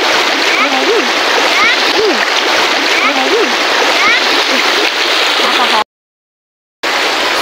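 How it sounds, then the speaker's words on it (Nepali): Bare feet wade through a shallow river stream with constant loud rushing and splashing water, while a voice is heard over it, then a brief cut to silence before the flow resumes. "सेउती खोलामा यस्तो ताप्रे खुट्टा हिँड्नु पर्दैछ"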